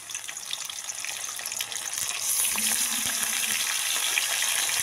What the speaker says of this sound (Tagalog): So, ilagay na po natin ang ating chicken wings.